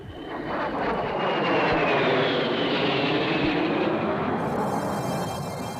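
A Harrier jump jet makes a fast low-level pass, its loud engine roar building quickly, peaking overhead and fading away over a few seconds.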